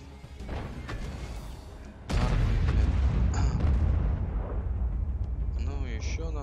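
Tank cannon shot in a tank video game: a sudden heavy boom about two seconds in, followed by a sustained rumbling roar of engine and battle noise, with someone talking throughout.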